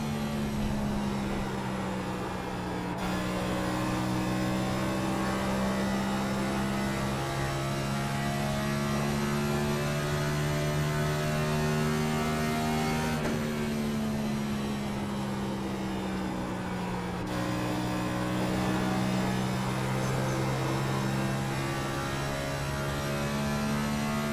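Sim race car engine in the eNASCAR video game running a solo lap at Nashville, a steady loud drone that rises and falls with shifts and throttle through the corners, with no talking over it.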